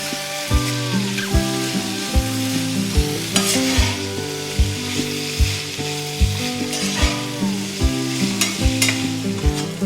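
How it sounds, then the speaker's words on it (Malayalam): Onions sautéing in a pan over a medium flame for Kerala beef roast, a steady close sizzle with regular stirring scrapes and clinks of the spoon against the pan, no talking. "സവാള ഒരു മീഡിയം ഫ്ലെയിമിലിട്ട് നന്നായി വഴറ്റി കൊടുക്കാം."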